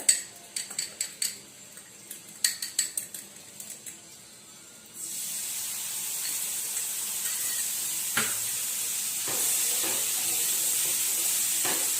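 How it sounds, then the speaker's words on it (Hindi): A salad base is sautéed in olive oil with chaat masala, lemon juice and black pepper. A few light clinks of utensils against a pan lead into a steady, hissing sizzle that continues to the end. "वन या 2 मिनट हम इसको सौटे करेंगे"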